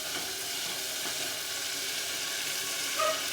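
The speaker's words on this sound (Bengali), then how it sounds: "মশলাটা ভালো করে কষা নিতে।" Spice paste sizzles steadily while being sautéed in a pan, a close, continuous bright hiss with faint stirring underneath and no talking.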